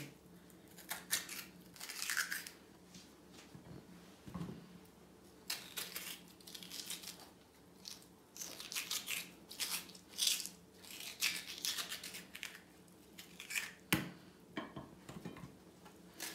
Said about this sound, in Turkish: Böldüğüm patatesleri ben genelde bıçak e, kaşık yardımıyla oyuyorum.